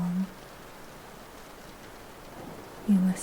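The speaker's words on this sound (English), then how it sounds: "You listen to the rhythm of the rain, to the faint ticking of the clock, to the distant rumble of thunder." Soft, steady rain patters evenly with a faint, distant rumble of thunder underneath, calm and continuous with no voices.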